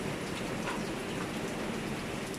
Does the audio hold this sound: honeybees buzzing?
no